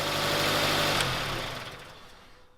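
Ten-year-old Mazda engine ticking over after an engine bay rinse, a steady close hum with a broad hiss that fades away over the final second.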